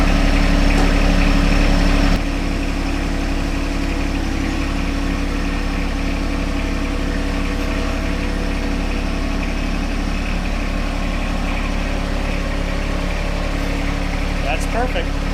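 A John Deere 1025R compact tractor engine runs at a steady, droning idle close by, the note unchanging throughout.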